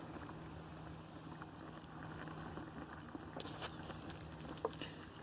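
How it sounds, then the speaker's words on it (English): Water boils inside a Vicks humidifier, a faint, steady bubbling patter with a low hum and a few soft ticks, heard close and quiet. "you can even hear it boiling down in there."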